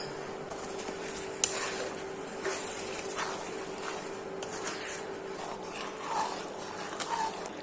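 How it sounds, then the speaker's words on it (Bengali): Dried chepa shutki fish paste is stirred and fried in a kadai. Soft, low scraping and clattering of the spatula against the pan goes on throughout at a quiet level over a faint steady hum. "এখন নেড়ে চেড়ে ভালো করে বেজে নিচ্ছি।"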